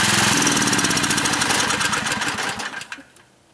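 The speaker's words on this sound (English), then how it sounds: "let's kill the generator and we'll pull the hose out" A generator running on wood gas from a wood stove is shut off. Its loud, fast chugging runs steadily, then slows, sputters and dies away to near silence within a few seconds.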